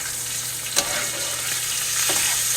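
Butter and olive oil sizzle and fry steadily around a ribeye steak in a hot pan while it is spoon-basted, with a couple of brief clinks and splashes over the constant crackle; no talking.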